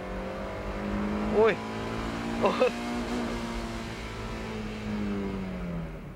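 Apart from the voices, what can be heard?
Eunos Roadster (Mazda MX-5) wheelspin at race start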